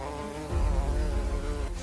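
A swarm of bees hums around a dairy cow in a meadow, a dense continuous drone with a rich tonal buzz that swells louder partway through and stays close and steady.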